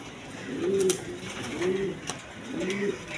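A pair of Indian Bombay pigeons coo close by, three rolling, swelling coos spaced about a second apart over faint background noise.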